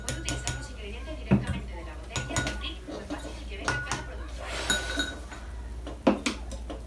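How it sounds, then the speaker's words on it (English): A spoon clinks against a mug as egg, sugar, milk and oil are stirred for a mug cake, giving scattered close taps and scrapes among other kitchen clatter while people talk. "Then we mix it."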